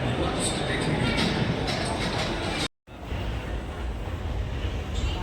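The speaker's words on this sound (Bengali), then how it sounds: "বলতে না বলতেই মেট্রো চলে এলো।" A Kolkata metro train rolls into an underground station with a loud, steady roar and rumble that fills the platform. Background noise blends in, and there is a brief cut to silence partway through.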